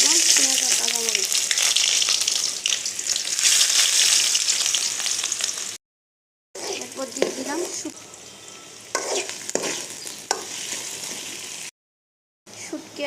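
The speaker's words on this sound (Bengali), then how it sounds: "কড়াইয়ে তেল গরম করে দিয়ে দিলাম পেঁয়াজ আর কাঁচামরিচ।" Onion and green chili frying in hot oil in a wok for a pui shak and dried shrimp curry, with a steady loud sizzle and scraping stirring, broken by two short silences, while a voice talks over it.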